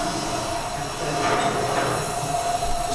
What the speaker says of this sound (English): So that was the lockers unlocking and the air re-inflating into the tires.